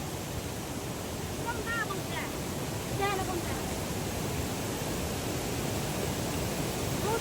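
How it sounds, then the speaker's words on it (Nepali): A large waterfall in Nepal roars as a steady, broadband wash of falling water, constant and fairly close, with faint voices briefly audible over it. "वाउ गाइजहरू यस्तो राम्रो ठुलो झरना देख्नुभयो"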